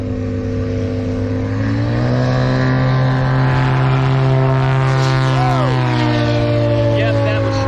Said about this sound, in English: That's a Yamaha Apex snowmobile engine, turbocharged.